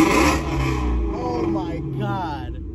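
A 2018 Ford Shelby GT350 Mustang's engine revs hard, a loud close growl whose pitch sweeps up and down across the clip, tapering at the end.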